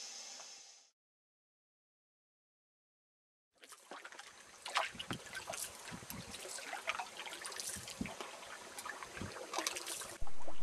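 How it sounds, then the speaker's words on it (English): A canoe paddle pulls through calm water in quiet wilderness, making soft, rhythmic splashes and trickling strokes after a brief stretch of near silence. "I'm definitely paddling hard"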